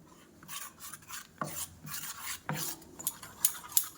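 A spoon stirs cooked rice with warm Amul milk, giving faint, intermittent scraping and rubbing strokes against the pot with a few soft clinks, quiet and without voices.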